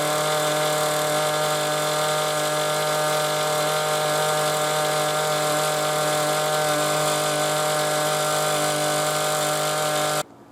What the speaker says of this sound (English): So now the next step is to get our new auger set up.